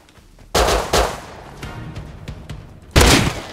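Sharp gunshots in Rust, two loud close cracks at the start and another near the end, with smaller scattered pops and rattles between them.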